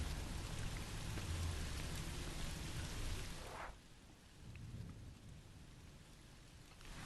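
Steady rain hisses in the horror video game Song of Horror, with low thunder rumbling under it; the downpour drops back abruptly partway through, then swells again more softly.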